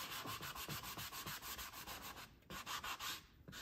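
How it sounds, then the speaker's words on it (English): Hand sanding on a papercraft round card and photo holder project: quick, rhythmic back-and-forth scratchy strokes, close and steady, with a short pause before the strokes resume and then fade. "I shouldn't be sanding right now,"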